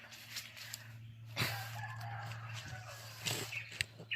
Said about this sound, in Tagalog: May mga narinig tayong mga ano ng manok at mga ibon